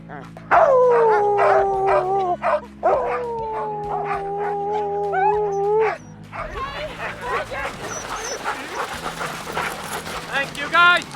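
Siberian husky sled dogs howl in long rising and falling wails, joined by yips and barks, loud and close for several seconds before breaking into excited yelping, with people speaking among them.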